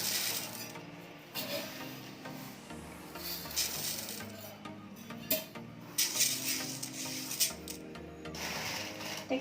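Dry rice grains poured into a storage container over chilli, a steady granular rushing and rubbing that swells and thins for several seconds, close and alone without talk.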